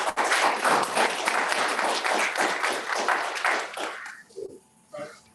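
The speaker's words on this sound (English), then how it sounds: "So anyway, without further ado, round of applause for Dr. Bradley." An audience at a church gathering claps loudly and steadily for about four seconds, then the applause breaks off, leaving a few scattered taps and a voice starting to speak.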